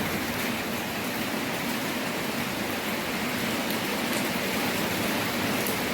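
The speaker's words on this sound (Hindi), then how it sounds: "आज सुबह सुबह हो रही है मस्त वाली बारिश।" Heavy early-morning rain pouring steadily, a dense, even hiss of drops striking surfaces that holds at constant loudness throughout with no breaks or voices.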